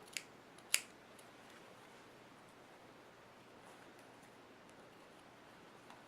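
Scissors making a small cut in fabric for a fold-and-stitch wreath: two quick, crisp snips near the start, then soft, quiet rustling of the material.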